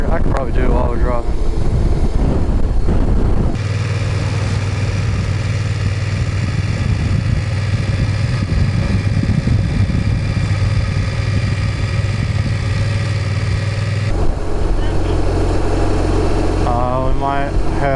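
A motorcycle on the road while touring toward Crater Lake, Oregon, gives a steady loud engine drone with wind rumble. Quieter stretches at the start and end sound like idling.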